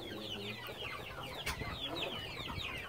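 Chickens cluck and chatter close by, several birds overlapping in a busy, continuous flock sound.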